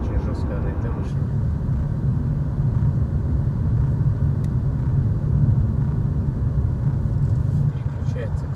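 A Volkswagen Golf 7 on a road, heard from inside the cabin as a steady low rumble of engine and tyres with a firm, stiff suspension, with someone talking over it throughout.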